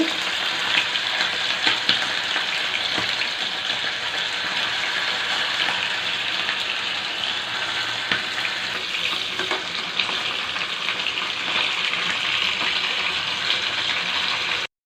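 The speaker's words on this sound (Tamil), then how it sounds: "ஆஃப் வேகிற அளவுக்கு ஃப்ரை பண்ணி எடுத்துக்க போகிறோம்" Chicken pieces frying in hot oil in a pan for a homemade chicken dish, a steady close sizzle and crackle running continuously with no talk.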